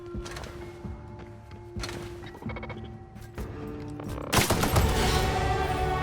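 Gunfire from a weak gun in the video game The Outer Worlds: several sharp shots spaced irregularly over game music, ending in a louder, denser burst of firing and impact noise.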